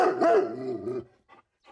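A large farm dog barks loudly in a rural yard, one long harsh bark followed by two faint, brief yelps, with no talking.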